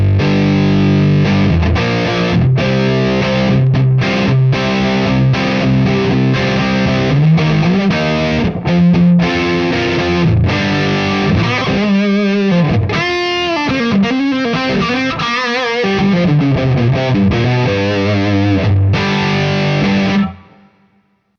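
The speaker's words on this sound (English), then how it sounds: "this is the Rat pedal" Electric guitar played through a Rat distortion pedal with a fuzzy, gritty tone, loud strummed chords and single-note riffs continuing steadily before cutting off at the end.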